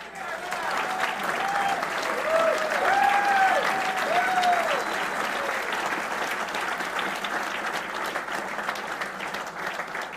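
A golf tournament audience gives a warm, sustained round of applause, a dense wash of many hands clapping steadily throughout at moderate loudness, with brief voices or cheers rising above it early on.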